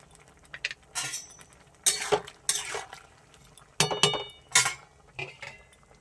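A spatula works through boiled, salted mango in a metal pot, giving irregular bursts of scraping and clinking strokes separated by short quiet gaps, close and fairly soft.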